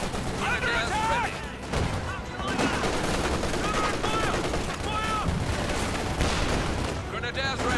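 Rapid bursts of StG assault rifle fire crackle through a Company of Heroes 2 battle, dense and continuous, layered with other distant gunfire and explosions while voice lines and talk run over the top.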